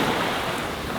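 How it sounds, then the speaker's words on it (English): Broadband wash of surf and wind around a sailboat crossing the Pacific, with a big ocean wave breaking against the hull and running up the jib; steady, loud, close, with no talk. "it was a big wave. I just saw a wave go up the jib."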